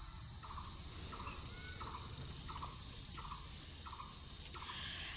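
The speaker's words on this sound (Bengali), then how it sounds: "চারপাশে কিন্তু ঝিঝি পোকা ডাকতেছে" Crickets chirp in a rural village beside a clay stove where onions fry, giving a steady run of evenly spaced, regular pulses over constant background hiss, moderately distant with no talking.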